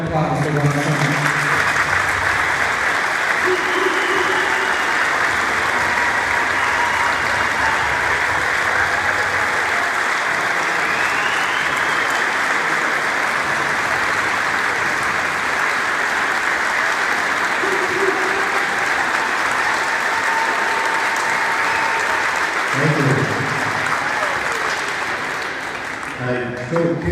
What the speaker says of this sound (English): Let's give another round of applause for John Fleming.